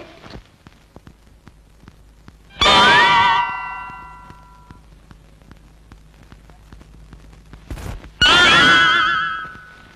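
A horse gives two loud, close neighs, each a high, shaky whinny that tails off over a second or two, separated by a stretch of quiet background with faint clinks.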